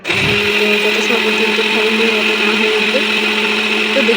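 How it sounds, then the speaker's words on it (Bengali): A blender grinds homemade pudding ingredients with a spoonful of oil, its motor starting abruptly and then holding a loud, steady whine close by for the whole span, alone without speech. "এক গ্রাইন্ডারতে ব্লেন্ডার করে নিতে হবে"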